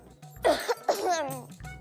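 An elderly woman coughs in a short burst of harsh, raspy coughs, close and loud, followed by a strained clearing of the throat.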